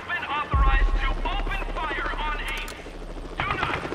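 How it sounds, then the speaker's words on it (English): Helicopter in the VR game Crisis on the Planet of the Apes, played on an HTC Vive, gives a loud, steady, close rotor rumble that lasts throughout, with a voice speaking over it. "I can't get away with the helicopter"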